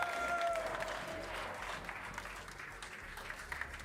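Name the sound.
applause for Mouse Sport at CS:GO grand final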